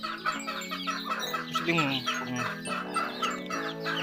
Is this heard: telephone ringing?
no